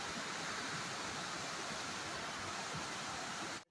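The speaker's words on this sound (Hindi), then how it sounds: "सामने पानी का बहाव देखो कितना तेज है इस समय" A flooded river rushes fast past a washed-out road near a suspension bridge, producing a loud, steady broadband roar of water that cuts off abruptly at the end.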